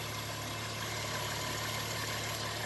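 A Subaru Baja with an H6 engine idles smoothly and steadily at close range, a constant low hum with a faint high chirp, likely from a belt or pulley, running through it.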